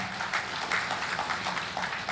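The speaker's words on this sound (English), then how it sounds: "round of applause for her" An audience at a panel session applauds with a dense patter of many hands, steady and moderately loud for a couple of seconds.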